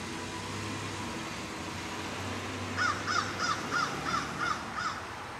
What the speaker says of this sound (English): I love hearing the birds sing when I'm hanging them out